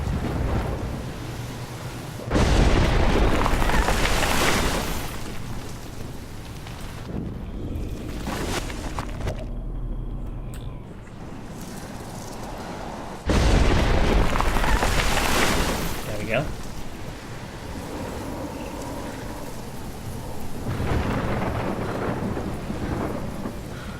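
Thunderstorm in the Life is Strange video game: heavy rain hisses steadily while loud rolling thunder bursts twice, separated by quieter stretches, with a voice talking over it at times.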